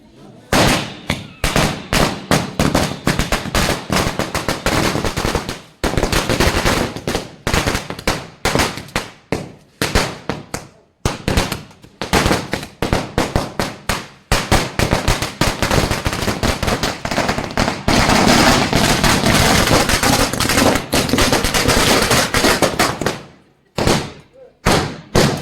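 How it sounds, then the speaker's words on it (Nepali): Firecrackers burst in a dense, rapid string of sharp cracks and bangs at a celebration after a cake cutting, loud and near, running almost continuously with brief pauses. "धुमधामसँग भएको पटेका पड्काएपछि"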